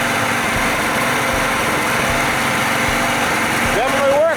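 A pressure washer's small engine, due for a new carburetor, runs and warms up outdoors on a cool, misty day, giving a loud, steady, close-up buzzing idle throughout.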